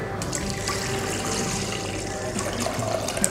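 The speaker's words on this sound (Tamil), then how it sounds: "1 லிட்டர் தண்ணி வைங்க கரெக்டாக." Steady stream of water pours into a pressure cooker holding rinsed lentils, a continuous close gurgling fill with occasional drips and no voices.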